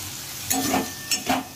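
Potatoes stirred into spices frying in oil give a soft background sizzle with two quick stirring swishes close by.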